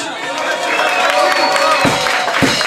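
A crowd at a Greek village panigyri festival in Vrysoules claps and cheers loudly in a dense, continuous wash of applause, with voices mixed into the noise.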